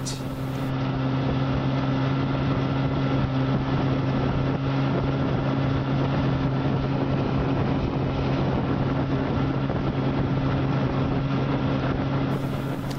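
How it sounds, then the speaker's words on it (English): An old 1959 Johnson 18 hp outboard motor with a 1966 powerhead runs steadily at a constant droning pitch, close and loud, with no break for the whole stretch. "as you can see, this old outboard runs great"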